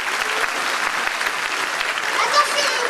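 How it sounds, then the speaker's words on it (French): An audience applauds at a circus festival show, a dense, steady patter of many hands clapping throughout with no break. "on peut l'applaudir à l'avance"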